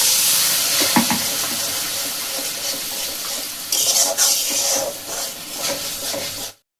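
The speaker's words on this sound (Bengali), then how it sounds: "এবার মিক্সি ধোয়া যে জলটা আমি সেটা দিয়ে দিলাম।" Mixer-rinse water is poured into a pan of eggplant curry, giving a continuous close splashing and hissing gush that swells briefly near the end before cutting off abruptly.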